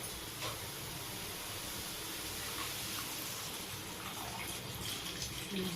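Water pours from a vessel into fried masala in a pan for a small fish curry, a soft, steady gushing splash that runs continuously and quietly for several seconds with no talk over it.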